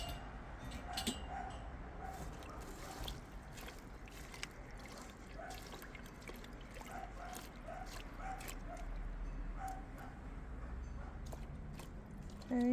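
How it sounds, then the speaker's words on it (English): A dog barks and yips intermittently in the distance over steady wind noise outdoors. "the neighbor's dog's barking too"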